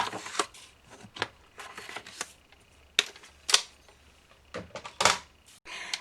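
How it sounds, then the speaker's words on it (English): A 12 by 12 inch sheet of craft paper being cut in half to 12 by 6, heard as a string of sharp, crisp clicks and snips at irregular intervals, close up with no speech. "First, we want to cut our 12 by 12 sheet of paper into a 12 by 6."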